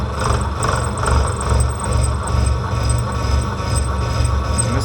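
A metal mill machines a hard crankshaft output shaft at a slow 135 RPM, with a steady, loud low motor hum and a continuous grinding cutting noise that pulses gently and evenly throughout.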